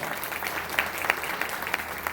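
A crowd applauds at a political rally in Godda, greeting the guests with steady, dense clapping that sounds moderately distant, with no voices standing out above it.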